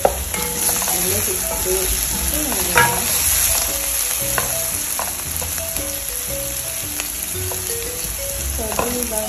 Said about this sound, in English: My bacon is like cooking.